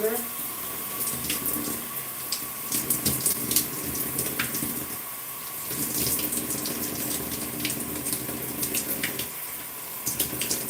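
A tap runs during a wash-and-go hair routine, its water gushing and splashing steadily at close range with fluctuating bursts as the stream is caught and redirected.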